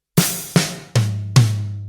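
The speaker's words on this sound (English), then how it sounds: "And it's a left on a snare and a right on the rack tom." A drum fill of four evenly spaced hits, the left hand on the snare and the right on a rack tom beside an open hi-hat, each strike loud and close with a short decaying ring, with no talking.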